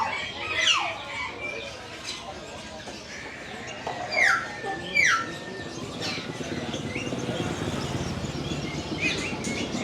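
Many kinds of birds in a large pet shop, with sharp squawks and chirps bursting out several times over a dense murmur of chatter and background calls, some close and loud.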